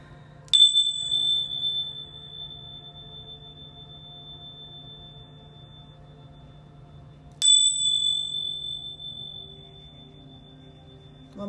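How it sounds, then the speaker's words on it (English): Small hand bells struck ahead of a tarot reading, two bright ringing strikes spaced several seconds apart, each leaving a long, clear, pure-toned decay over a quiet background hum. "I'm going to ring these bells just 3 quick times"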